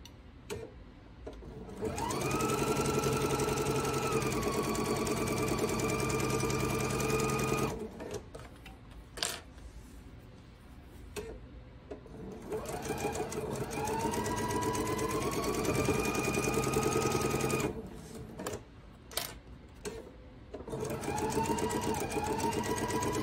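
A sewing machine stitches a scant quarter-inch seam on quilt pieces, running in two long, steady whirring bursts with short pauses and small clicks between them, close and clear with no speech.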